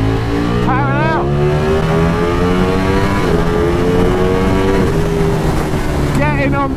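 A Ducati Streetfighter V4S naked motorcycle engine roars continuously and loudly as the rider powers out of a corner, pitch climbing through the gears in sweeping rises, under wind noise and the rider's talk.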